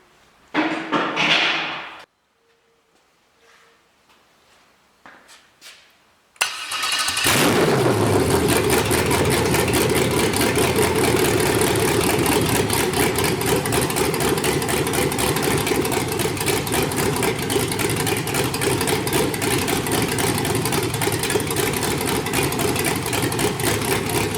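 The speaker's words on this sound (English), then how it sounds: "let's fire up the engine." An LS truck engine running on a MegaSquirt 2 ECU cranks and fires after a few quiet seconds, then settles into a loud, steady idle that drones on without a break.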